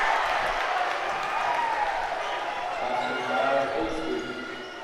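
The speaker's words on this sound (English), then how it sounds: "The crowd getting loud here at Thermopolis" Crowd noise rises and holds as a steady, fairly loud roar in the gym at Thermopolis during a high school varsity boys basketball game between the Bobcats and Lovell Bulldogs, with a commentator talking over it throughout.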